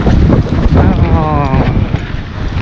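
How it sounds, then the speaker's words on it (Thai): Loud, blustery wind buffets the microphone on a crowded bridge, with roaring low rumble throughout and a faint Thai-speaking voice underneath. "ลมแรงขออภัยด้วยครับ"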